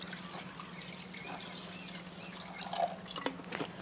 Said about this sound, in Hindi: अब इन मायने अपन पानी डाल दें।